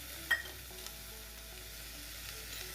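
A medium tomato hits hot tempering in a pan for Maharashtrian katachi amti, bringing a steady, close sizzle with a small bump at the drop and faint stirring clinks underneath.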